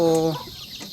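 A single short, throaty cluck from a chicken in a rural countryside setting, close and fairly loud, then quickly trailing off into quiet background.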